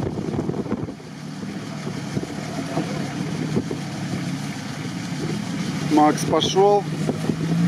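A Lada Niva off-road car engine drones steadily while driving across rough terrain, with wind buffeting the microphone and people talking over the rumble.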